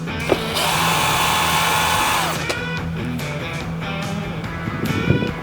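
A power screwdriver whirs steadily for about two seconds, backing out fairing screws on a motorcycle, followed by scattered clicks, clinks and handling of small metal parts and a rattling clatter near the end.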